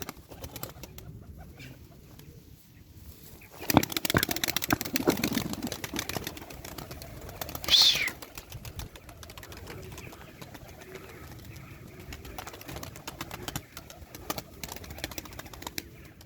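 Turkish tumbler pigeons, kept as performance birds, cooing with a sudden burst of wing flapping midway, set among faint rustling and background noise.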